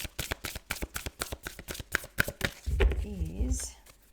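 Tarot cards shuffled for a reading give a rapid run of crisp riffling flutters, close and loud, before a voice starts speaking over the final shuffles.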